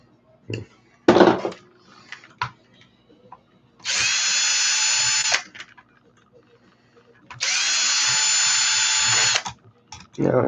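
A power drill backing a stripped screw out of an ARRMA RC car, two sustained whirring bursts of about two seconds each between clicks and handling knocks, close up, with a voice briefly at the start.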